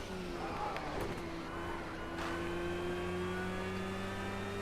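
A Porsche racing game car engine drones at steady revs, its harmonic whine holding and slowly rising, with brief scuffs and a muffled thump near the start as the car takes a corner.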